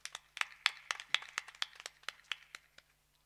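Scattered hand claps from a village festival drama audience, a quick run of sharp irregular claps that builds briefly and then thins out, moderately near with no talking.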